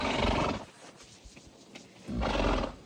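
Close by, a ridden horse gives two loud, breathy snorts at the start and end, with a few soft hoof thuds in the quieter stretch between.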